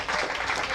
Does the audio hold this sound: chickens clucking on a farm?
no